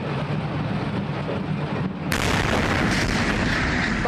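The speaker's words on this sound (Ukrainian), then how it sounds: "Момент падіння су 34 зафіксували камери спостереження." A Su-34 jet crashing into a multi-storey building and exploding, recorded by a surveillance camera: a loud, continuous roaring rumble that surges into a heavier blast about halfway through and stays dense and sustained.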